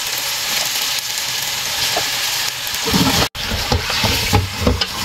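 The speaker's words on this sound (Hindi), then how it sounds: "अब चिकन को थोड़ा सा जो है वो ऑयल में इतना जो है आपने फ्राई करना है" About two kilos of chicken sizzling in hot oil with browned onion, ginger and garlic: a steady, close frying hiss with occasional stirring clatter and one brief gap.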